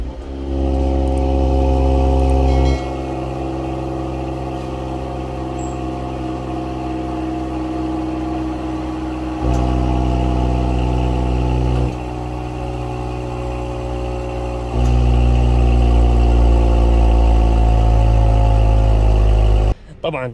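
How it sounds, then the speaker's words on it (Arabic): Six-cylinder petrol engine of a Mercedes GLE 53 or BMW X6 running close up, a loud steady hum with several rises and drops in revs, cutting off near the end. "اسمع، هذه ماكينة الـ 6 سلندر"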